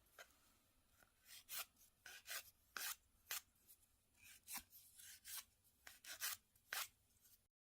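A nail file rasps against a fingernail while shaping it into a ballerina shape, with about sixteen short, separate strokes in a loose rhythm. The strokes are close and fairly quiet, with no talking.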